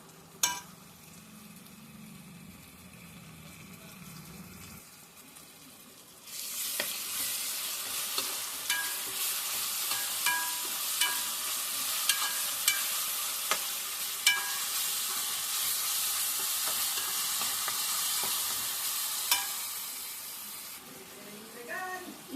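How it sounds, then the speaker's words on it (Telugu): Ginger-garlic paste fries in a pan among cooked-down tomatoes for a chicken curry: after about six quiet seconds a loud, steady sizzle bursts in and holds, broken by frequent small scraping stir clicks, then eases slightly near the end. "ఇప్పుడు అల్లం వెల్లుల్లి పేస్ట్ వేసుకున్నాను. ఇది పచ్చివాసన పోయే వరకు ఫ్రై చేద్దాము."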